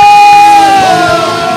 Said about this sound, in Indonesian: Berikan tepuk tangan yang paling meriah bagi Tuhan Yesus